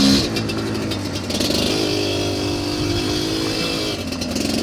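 A dirt bike riding off-road at an ORV park, its engine droning loud and close with steady revving and rising and falling pitch.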